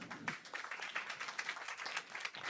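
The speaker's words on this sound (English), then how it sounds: "Let's give him a round of applause." Applause for a guest teacher welcomed at a women's history cafe gathering, a steady patter of clapping hands from a small audience, moderately faint and continuous.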